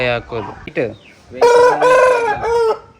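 A 10-month-old, 3.5 kg game rooster crows loudly and close by, a strained call after some shorter clucking notes at the start.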